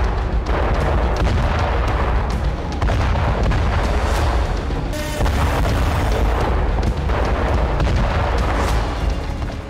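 An Iranian gas pipeline explodes. A loud, sustained roar of blasts and rumbling booms fills the whole stretch, with repeated bursts and cracking, and no voices are heard.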